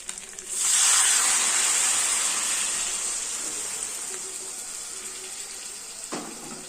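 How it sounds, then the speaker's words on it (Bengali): Water pours steadily into a pan of spiced katla fish-head curry (muri ghonto), a loud, bright rushing hiss that starts abruptly and runs on, slowly easing, with a faint clunk near the end. "এবার জল দিয়ে দেবো"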